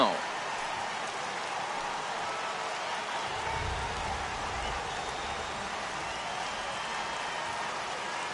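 Rain falling steadily on a baseball game in a video game, a dense even hiss with a low crowd murmur beneath, under commentary voices.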